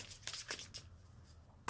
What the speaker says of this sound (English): while I get in my last shuffle here